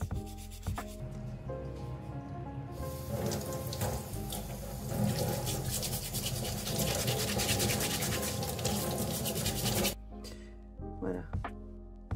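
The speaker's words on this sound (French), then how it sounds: "C'est une brosse nylon. Vous mouillez la pièce et puis vous frottez." A wet polymer clay piece scrubbed with a nylon brush beside running water: continuous rough bristle rubbing over a flow of water, close and steady, with a voice talking over it.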